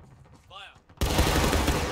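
A musket volley fired by a line of soldiers in the Civil War game War of Rights, one sudden loud blast that rolls into sustained crackling, preceded by a brief voice.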